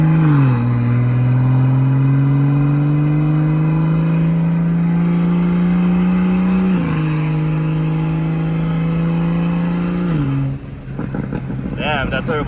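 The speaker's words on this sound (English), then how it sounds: "that turbo sounds good when it's spooling" A turbocharged car at a night car meet holds a loud, steady high rev with the turbo spooling, pitch stepping up and down a few times before dropping off near the end, close and dominant.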